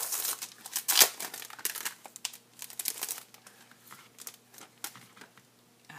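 A package of Kyowa lace origami paper is opened with a close, irregular run of crinkling and rustling plastic wrap. Sharp crackles come in bursts and gradually ease off, and nobody speaks.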